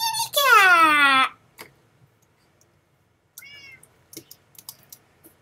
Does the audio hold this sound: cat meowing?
yes